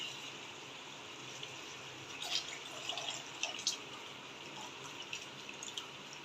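Water draining from boiled rice through a kitchen strainer, a quiet steady trickle with scattered drips and small splashes close by, no voices.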